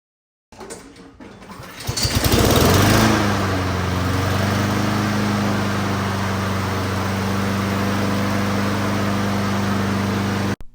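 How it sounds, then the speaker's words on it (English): A Honda GVC17 lawnmower engine, freshly tuned up with a new spark plug, air filter and blade, is pulled to life, catches after a brief sputter and settles into a loud, steady drone close by, with no talking. "now you can start up your lawnmower"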